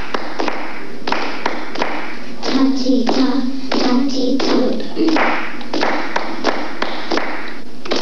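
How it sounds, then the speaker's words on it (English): A children's chorus claps a steady rhythmic pattern together in crisp, close taps, with young voices chanting rhythm syllables over part of it. "Clapping the rhythm and singing a short song is followed by clapping an ostinato"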